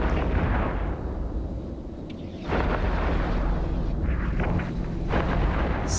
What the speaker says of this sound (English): It looks like the Barghest is using rapid missiles.